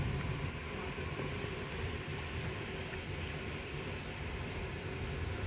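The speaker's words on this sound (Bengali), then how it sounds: "এই যে ট্রেনটা আস্তে আস্তে আবারও চলছে" A train from Khulna to Dhaka rumbles along slowly and steadily, a low continuous rolling noise with faint metallic rattles, no voices.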